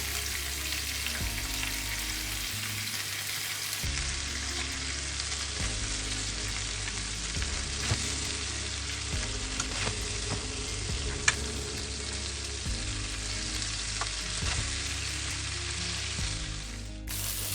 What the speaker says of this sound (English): So our meatballs have been cooking up for some time.